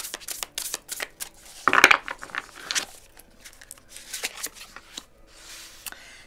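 A deck of tarot cards is shuffled by hand for a general reading, producing quick papery riffles and soft flicks in irregular bursts, with one louder riffle early on and no speech over it.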